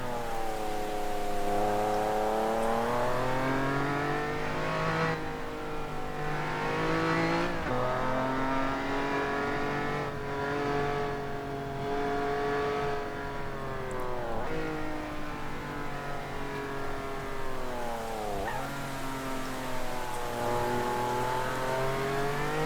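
Simulated race car driven in Assetto Corsa on the Hometown track, its engine whining loudly and steadily through rising and falling gear sweeps, with brief dips at shifts and occasional tire noise, no talking.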